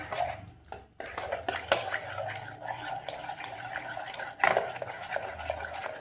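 Cooked fresh hyacinth beans are mashed in a pressure cooker; a metal spoon scrapes and clinks against the pot in irregular strokes, close by.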